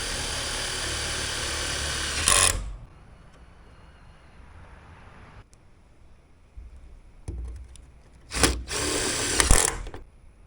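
A power drill drives a screw into a Jeep Cherokee XJ sun visor, with a loud continuous whir at the start, a quieter stretch, then several short bursts of the motor near the end.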